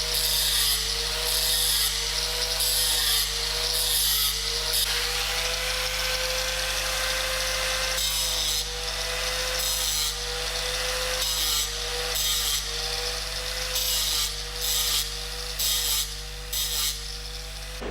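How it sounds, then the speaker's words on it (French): A fine grinding wheel bevels weld tack points in stick electrode welding, a loud high-pitched whine in repeated bursts with short pauses over a steady hum. "On utilise une meule fine pour les tailler en biseau et permettre une parfaite liaison avec le cordon"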